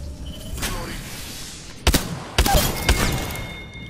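Gunfire in the battle royale shooter Apex Legends: three or four punchy, widely spaced shots ring out over a steady game background hum, growing louder toward the end.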